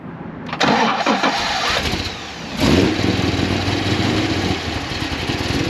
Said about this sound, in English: 7-liter V8 fires right up.